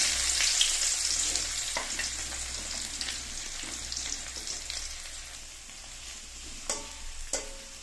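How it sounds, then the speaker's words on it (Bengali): Onions fry in a pan, giving a steady hissing sizzle with a few stirring scrapes and clinks toward the end. "পেঁয়াজ ভেজে নেব।"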